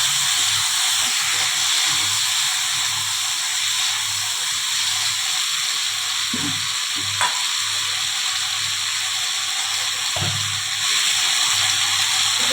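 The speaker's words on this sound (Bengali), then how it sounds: "একটুখানি জল ছেটে দিয়ে দিচ্ছি।" Water sprinkled into a pan of frying pointed gourd and potato curry seasoned with Kashmiri chili powder, producing a steady close hissing sizzle with a few brief stirring scrapes, constant and moderately loud, without talking.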